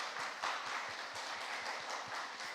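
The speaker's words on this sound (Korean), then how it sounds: "한번 일어나 주시면 우리 따뜻한 박수로 같이 환영해 드리겠습니다" Warm applause from a church congregation at a Saturday service welcoming visiting missionaries from Cambodia, a steady moderately faint wash of many hands clapping throughout with no speech.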